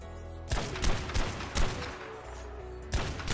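Fab Sniper rifle shots in Ark Survival Evolved, four loud, sharp cracks spaced roughly half a second to a second apart, each with a short booming tail over low background rumble.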